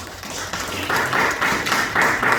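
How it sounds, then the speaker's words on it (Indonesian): A church congregation at a Sunday service claps, starting as loose scattered applause and settling into a steady rhythmic beat of about two claps per second, loud and close. "Tepuk tangan dulu buat Tuhan."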